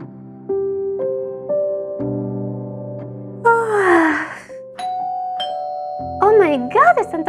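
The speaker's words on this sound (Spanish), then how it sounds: "¡Están tocando el timbre!" A doorbell in Roblox Brookhaven rings as a loud run of sustained electronic chime tones, then gasps and wavering vocal sounds follow.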